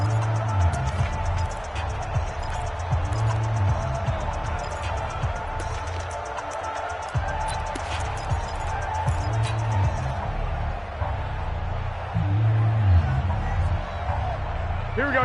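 Steady roar of a large stadium crowd inside the Dome during an NFL football game between the Falcons and Saints, a continuous loud wash of noise with surges, under ongoing talk.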